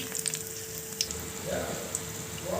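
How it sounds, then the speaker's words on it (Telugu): Mirchi bajji made with Bangalore chillies frying in oil in a pan, a soft continuous sizzle with small crackles, close and fairly quiet. "మనకి బజ్జీ ఇలా కాలితే సరిపోతుందండి నాలుగు వేసుకున్నానండి బాండలలో"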